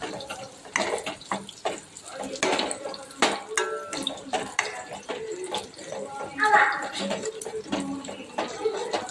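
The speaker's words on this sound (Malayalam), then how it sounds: "വെള്ളം കൂടെ അങ്ങോട്ട് ഒഴിച്ചു കൊടുക്കാം" Water is poured into a pan of fried spice powder for a Pathanamthitta and Thiruvananthapuram style tuna fish curry, making bursts of splashing and trickling close by, with people talking over it.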